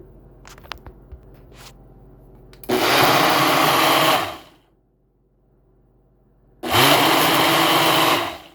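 A Ninja Professional Plus blender roars loudly in two bursts of about a second and a half each, blending a smoothie, separated by a quiet pause, with a few small clicks before.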